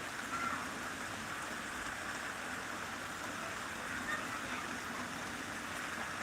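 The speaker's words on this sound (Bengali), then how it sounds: "বৃষ্টিটা কিন্তু ভালোই হচ্ছে দেখতে পাচ্ছ" Afternoon rain falls steadily, making an even wash of hiss that neither swells nor fades, with no distinct drops or voices standing out.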